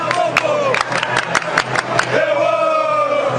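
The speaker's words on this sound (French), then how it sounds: "une foule en liesse l'accueille avec frénésie" Jubilant crowd at Zando market in Kinshasa greeting the provincial governor, a dense roar of cheering voices with sharp claps and whistles breaking through repeatedly, loud and close throughout.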